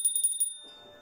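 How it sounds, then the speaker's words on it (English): A small altar bell is shaken in five quick, bright strikes that ring clear and close, then fade into a soft, lingering decay. "a little bell."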